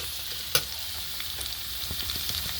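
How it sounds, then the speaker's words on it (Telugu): Ridge gourd peels fry in hot oil with a steady, close sizzle, broken by light stirring clicks and one sharper tap near the start. "ఇలా ఆయిల్లో ఫ్రై చేసుకోవాలి బాగా"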